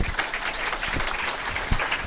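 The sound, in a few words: audience applause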